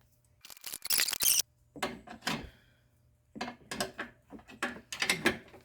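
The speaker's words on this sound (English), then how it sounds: "we'll just use the old interlock wrenches here, and we'll just see if we can loosen this baby up" A ratchet wrench works loose a bolt on the upper control arm of a 2009–2014 Ford F150 XLT: close, fast bursts of ratcheting clicks in several separate runs, with short pauses between and no talking.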